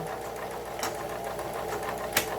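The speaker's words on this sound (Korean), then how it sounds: "세발뜨기 바느질이죠" A Lion household sewing machine runs a triple stitch, giving a steady, fairly loud mechanical whirr with rapid needle clatter and a couple of sharper clicks, heard alone with no voices.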